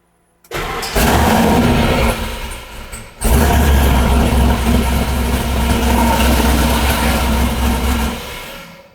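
A square body truck with a supercharged LSA engine cranks and fires, stumbles briefly, then catches again and settles into a loud, steady idle close by.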